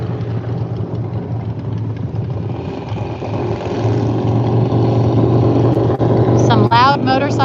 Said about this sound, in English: Some loud motorcycles coming.